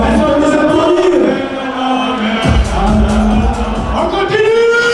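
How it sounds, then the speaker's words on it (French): An indoor crowd at a costume and mask contest cheering and clapping for a team, a loud, continuous roar of applause mixed with whoops and shouts, while a presenter's voice carries over the noise. "Voilà, on les applaudit."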